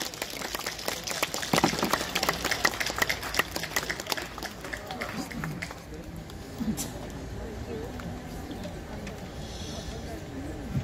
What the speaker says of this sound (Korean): 우리 구청장님 오시는데 박수 부탁드리겠습니다